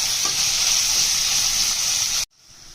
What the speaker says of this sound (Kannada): ಆನಿಯನ್ ಹಾಕಿ ಆನಿಯನ್ ಸ್ವಲ್ಪ ಗೋಲ್ಡನ್ ಬ್ರೌನ್ ಆಗೋ ತನಕ ಸ್ವಲ್ಪ ಫ್ರೈ ಮಾಡಬೇಕು.